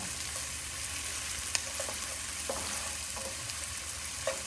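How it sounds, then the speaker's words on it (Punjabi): Chopped onions sizzle steadily while they soften in a pan, the first step of a broccoli-carrot soup with cheddar, with a few faint stirring clicks over the continuous frying hiss and no talk. "ਇੱਕ ਦੋ ਮਿੰਟ ਆਪਾਂ ਜੀ ਇਹਨੂੰ ਭੁੰਨਾਂਗੇ ਸੌਫਟ ਕਰਾਂਗੇ ਆਪਣਾ ਪਿਆਜ਼"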